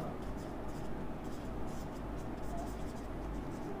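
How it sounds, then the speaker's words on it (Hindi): Chalk or marker scratches and taps across a classroom board as a maths question is rewritten, a steady close scraping texture over a constant room hum. "इसे दोबारा लिख देता हूं"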